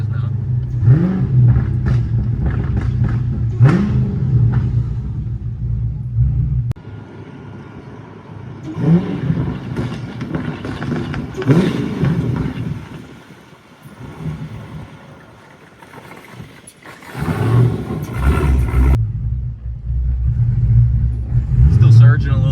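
A Dodge Hellcat with a choppy aftermarket cam idles with a loud, lumpy low rumble that surges, drops back and then swells again, while a voice talks over it.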